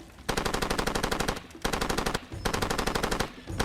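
Gunfire in the video game Far Cry 2, heard as loud, rapid automatic bursts in three sustained strings separated by short pauses, with no talking.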